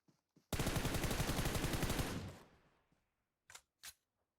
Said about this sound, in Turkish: Biri bir yerden vuruyor ama.